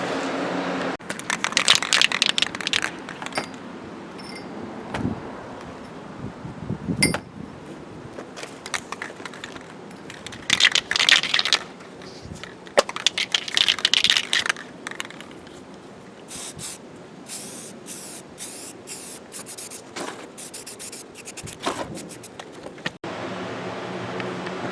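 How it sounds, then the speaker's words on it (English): Quick hand sanding of car front suspension parts being rebuilt on Old #7, a steady scratchy rasping that comes and goes in short bursts with clunks and knocks of parts being handled, close and moderately loud, no talking. "I'm going to give these a quick sand, throw them outside, blow some gloss black on them"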